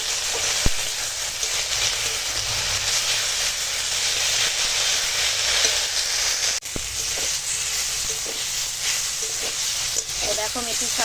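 Fenugreek greens and eggplant cook in a pan with salt and turmeric, giving a steady, close sizzle and hiss that runs unbroken throughout, with a few faint clinks and no talking.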